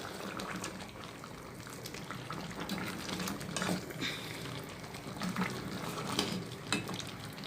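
Chicken cooking in a pot with tomatoes and lemon for Sindhi biryani, stirred through a steady bubbling, simmering wash with soft scraping and clinks from a spoon, close and continuous, no voices.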